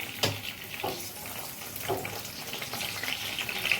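Green chillies crackle and sputter in hot oil in a pan, a close, continuous sizzle broken by a few sharp pops.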